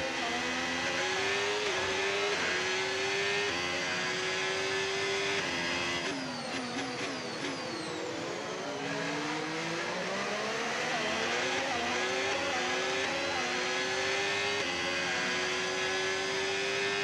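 A Formula 1 race car's engine in a video game whines loudly and continuously, climbing in pitch through the gears, dropping under braking, then accelerating again, with a burst of rapid shifts partway through.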